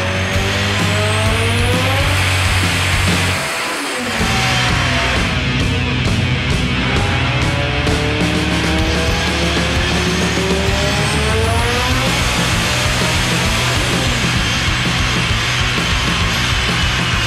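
Diamond Star Motors race cars tear past at the 19th annual Buschur Racing DSM EVO Shootout in Norwalk, Ohio, engines revving hard and rising and falling in pitch, with tire squeal and a brief lull before more loud passes.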